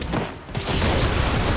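Dense gunfire in Far Cry 6, a loud crackling fusillade of overlapping shots that drops briefly, then resumes as a sustained barrage with no talk.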